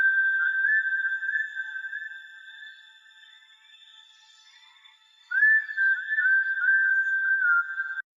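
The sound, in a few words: Lemongrass synth melody loop from Satin Looks expansion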